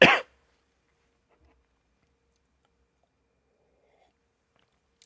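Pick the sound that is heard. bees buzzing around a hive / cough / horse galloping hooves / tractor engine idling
cough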